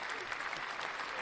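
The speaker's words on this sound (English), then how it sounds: "Let's give you a round of applause if I can reach it." Hands clap in a steady, dense round of applause from a small group on a podcast set, continuous and fairly close for the whole moment with no talking.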